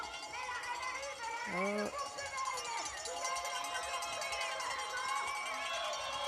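A home crowd cheers and rings cowbells at the finish of a ski mountaineering sprint race, a steady, lively wash of voices and clanging with a brief exclamation in the mix.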